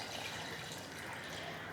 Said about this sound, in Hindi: 1 कप पानी डाल रहे हैं।